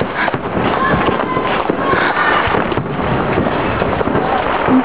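Fireworks going off outdoors during a winter celebration, a dense crackling barrage of bangs and pops mixed with muffled rumbles, continuous and fairly loud at a moderate distance.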